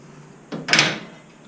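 A metal drawer on a mechanic's tool cart slides on its rollers, a short smooth rolling rush lasting under a second that ends in a soft stop, close and fairly loud in a quiet garage.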